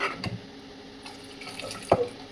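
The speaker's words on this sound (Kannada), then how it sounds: "ಆಮೇಲೆ ನೀರು ಕೂಡ ಹಾಕೋಬೇಕು" Water poured into a pot of vegetable sambar being cooked for about ten people, heard as a short, close splashing and trickling with a brief louder gush near the end.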